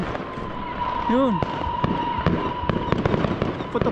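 Fireworks pop and crackle in sharp bursts, one after another, with people talking nearby and a whistling rocket rising early on.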